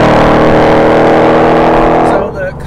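A supercharged Ford Mustang GT with a Coyote V8 and a Hennessey HPE800 upgrade revs hard inside the cabin, a loud sustained engine roar that falls away near the end.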